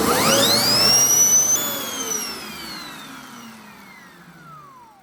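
A Morphy Richards Storm 2000W vacuum cleaner with a turbo brush spins down from a loud, close whine, its pitch sliding steadily lower as the motor fades over a few seconds.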